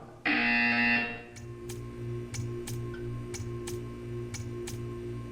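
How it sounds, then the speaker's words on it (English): A loud, steady electronic buzzer in the video game Portal 2 blares for about a second, then gives way to a rhythmic series of sharp ticks over a low hum. "You will hear a buzzer."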